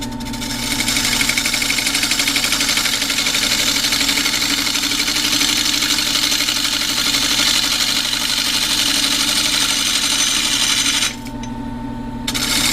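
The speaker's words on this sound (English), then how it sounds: "this is called a bowl gouge" A bowl gouge cuts live edge walnut spinning on a wood lathe, giving a continuous bright hiss and whir over the motor hum. The cut runs steadily and close, then briefly drops away near the end.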